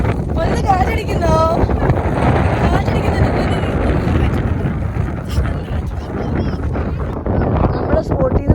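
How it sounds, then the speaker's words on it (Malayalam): Steady wind gusts buffet the microphone outdoors on a family road trip near a valley lookout, a dense continuous rush holding at constant loudness for the whole stretch, with voices talking now and then beneath it. "ഒന്ന് കാറ്റടിക്കുന്നോ?"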